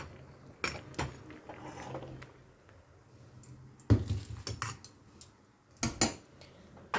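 A metal kadai set down on a stove among other pans, a few sharp metallic clanks and clinks in scattered bursts over a quiet, low background.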